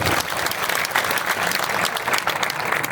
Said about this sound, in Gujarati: એને જોરદાર તાળીના ગળાથી વધાવો